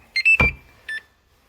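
Two short electronic beep sequences from a Traxxas EZ-Peak Dual battery charger, a quick double-tone chirp followed by a single beep a moment later, with a brief clunk between.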